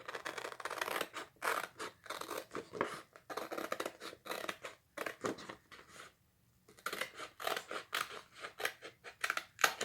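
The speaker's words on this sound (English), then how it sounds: "I'm going to use my scissors and I'm going to cut this in half." Scissors snipping a Chalk Couture transfer sheet in half, a close series of crisp cuts in irregular bursts with a short pause midway.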